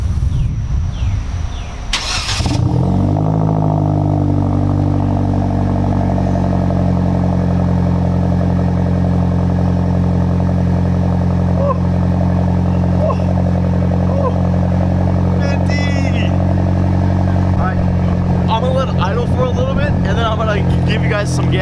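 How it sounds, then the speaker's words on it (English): A Hyundai Genesis with a new ISR Racing catback exhaust cold starts: the engine cranks and catches after a brief clatter, then settles into a loud, deep, steady rumble that runs on continuously. "Time for a cold start"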